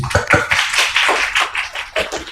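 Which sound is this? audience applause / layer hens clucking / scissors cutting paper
audience applause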